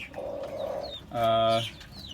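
Desi chickens on a rooftop farm give a drawn-out cluck followed by a louder, harmonic squawking call, close to the microphone with faint background noise.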